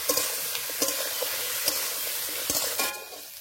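Jackfruit seasoned with salt and turmeric fries in a pan, a steady close sizzle broken by repeated scraping strokes of a spatula stirring the pieces, with no talk.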